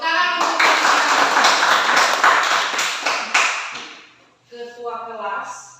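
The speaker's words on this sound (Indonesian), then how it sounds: "Tepuk tangan untuk" Schoolchildren clapping together in a classroom, a burst of quick, fairly close applause with a few sharp claps that dies away, then a voice speaks briefly.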